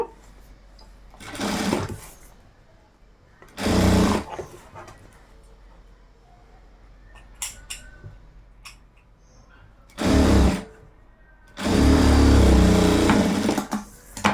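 A sewing machine stitches the joint of a vaddanam voni border in loud bursts of whirring, four separate runs with quiet pauses between, the last the longest, alone without speech.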